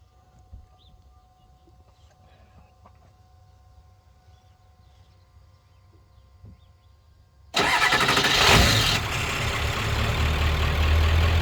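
2000 Ford F350 dually with the 7.3L diesel, aftermarket stage one injectors fitted, cranks after a quiet stretch and fires abruptly into a loud, rough idle that settles into a steady clatter, close up with no talk.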